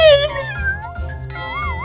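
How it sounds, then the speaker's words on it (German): A cat meows close and clearly, two drawn-out meows with rising and falling pitch filling the short moment. "Miau. Wow. Wir lieben Katzen."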